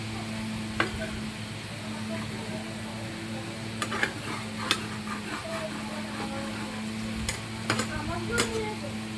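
A potato and cauliflower curry is stirred and fried, with a soft sizzle, occasional utensil clinks and scrapes, and a steady low mechanical hum running throughout.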